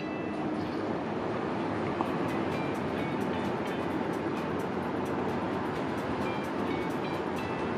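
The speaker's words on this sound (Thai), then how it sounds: "เป็นชุดรถจักรอุลตร้าแมนนะฮะลากทดสอบกระบวน CNR บนทางรถไฟฟ้าสายสีแดง" A locomotive hauling a passenger train on an elevated railway rumbles past steadily and loudly, a continuous heavy roar with faint rhythmic clicks of wheels over the rails.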